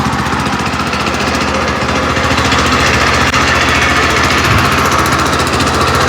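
A Weima engine on a walk-behind tractor runs loud and close, a continuous rough, throbbing petrol drone with steady mechanical rattle and no voices.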